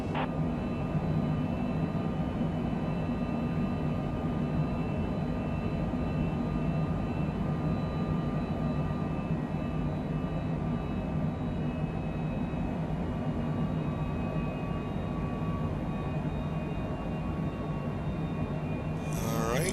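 Steady, loud jet engine drone from a Cessna Citation Longitude climbing after departure from Zurich in Microsoft Flight Simulator 2020, a continuous broadband roar with tonal whine running unbroken and alone throughout.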